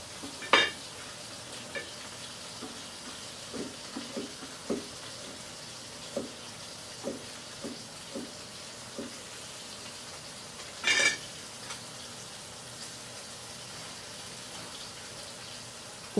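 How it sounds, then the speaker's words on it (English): Soft, steady sizzle of red snapper pan-frying in oil, with occasional light scrapes and taps of a utensil against the pan. "you can tilt the pan slightly to let the hot oil flow over those areas, ensuring the entire fish is fried"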